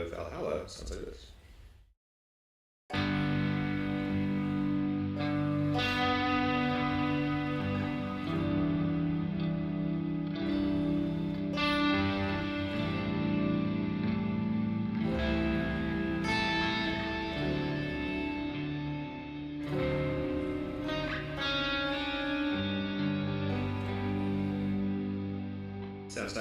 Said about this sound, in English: I have the Valhalla reverb on because it sounds cool for the chords